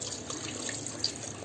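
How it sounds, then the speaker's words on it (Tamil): About 250 ml of water pours steadily into a cooking pot of mutton biryani in a continuous, close splashing rush for a brief moment, with no voices. "இப்போ நம்ம தண்ணி வந்து ஒரு 250 ml தண்ணி ஊற்றினா போதும்."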